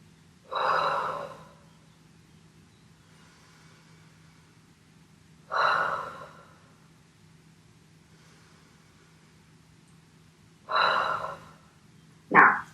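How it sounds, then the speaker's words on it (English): Three slow, deep breaths with long exhales, evenly spaced and close to the mic, during a contemporary dance class warm-up, over a faint steady hum; a sharper breath sound cuts in at the very end. "we're going to start by taking 3 really deep breaths and then exhaling really"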